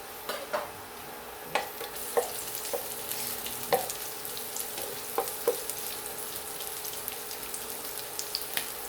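Garlic and tomatoes sauté in a pan for ginisang upo, a soft continuous sizzle broken by scattered spatula scrapes and clinks of stirring, close and fairly quiet with no talk.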